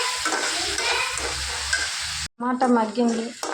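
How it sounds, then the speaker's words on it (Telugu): Tomatoes with a pinch of salt fry in a pan with a loud, dense sizzle and stirring noise, then a brief gap before the frying crackle returns. "వేగంగా ఫ్రై అవ్వాలంటే కొద్దిగా సాల్ట్ వేసుకుంటే వేగంగా ఫ్రై అవుతుంది"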